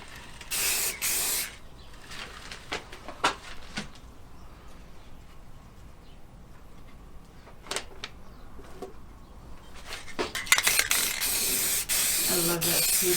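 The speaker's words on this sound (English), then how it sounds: "I've already sprayed the black, or the back. So now I'm just going to do the ends and the surface." Clear finish is sprayed onto a freehand-carved western red cedar wood sign in several short hissing bursts, some brief and sharp, ending in a longer, louder continuous spray, with small handling clicks between.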